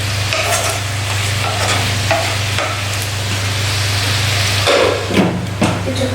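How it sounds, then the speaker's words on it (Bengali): Potatoes fry in a pan with a steady sizzle under a low hum, while a utensil scrapes and stirs them in irregular clattering strokes. "তো আমার আলুগুলো ফ্রাই করা হয়ে গেছে"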